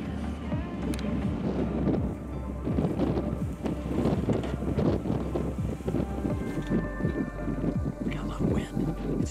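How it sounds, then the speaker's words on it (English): Strong wind buffets the outdoors during an Iowa shotgun deer hunt, a steady loud rushing roar with gusty low rumble across the microphone throughout, broken by brief sharper knocks and rustles. "We got a lot of wind."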